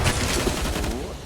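AK rifle gunfire from a Counter-Strike match on the Mirage map comes as quick, fairly loud shots over crowd and game noise, with commentary voices partly overlapping.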